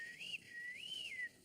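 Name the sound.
person whistling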